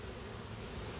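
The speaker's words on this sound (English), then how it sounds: "Those are freshly hatched bees." Freshly hatched honeybees inside a nuc hive give off a soft, steady insect hum and buzz, close and continuous with no talking.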